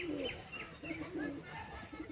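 Pigeons coo in short low rolling bursts close by, and someone speaks over them, among high-flyer pigeons kept for sale.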